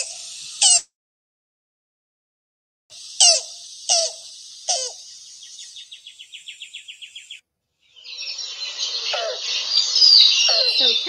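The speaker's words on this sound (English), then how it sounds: "I'll play you the sound of the yellow-billed cuckoo" A recording of a yellow-billed cuckoo plays a series of sharp, squeaky calls, a rapid run of clucking notes, and then a harsh rattling phrase, fairly close and clear against silence.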